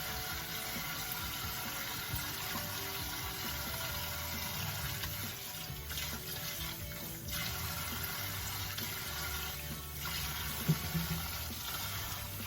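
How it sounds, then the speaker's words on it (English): Tap water runs continuously over a wig being washed in a sink, a steady broadband splashing hiss up close with slight changes as the hair shifts under the stream. "I'm gonna just wash the hair"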